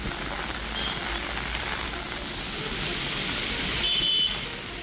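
Steady heavy rain pouring down over a wide area of Tamil Nadu, a dense continuous hiss on surfaces with a faint electronic beep or two, no voices.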